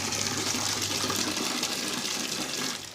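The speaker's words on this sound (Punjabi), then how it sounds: "ਮੋਟਰ ਲਗਾ ਕੇ ਦੇਖਿਆ ਪਾਣੀ ਸਾਫ਼ ਆ ਰਿਹਾ ਕਿ ਕਿੱਦਾਂ ਦਾ ਆ ਰਿਹਾ" Water gushing from a motor-fed tap into a sink, a steady close rushing flow that eases off at the very end.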